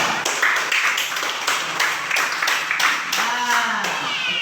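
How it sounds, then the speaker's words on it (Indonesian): Pupils in a classroom clap for group 3, a run of sharp claps in a fairly even rhythm, with voices talking in the room alongside. "Tepuk tangan untuk kelompok 3."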